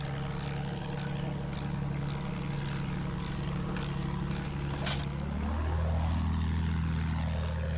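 An enemy aircraft flies overhead in a video game, its engine droning steadily beneath regular mechanical ticks before the pitch swells and wavers as the plane passes close and loud.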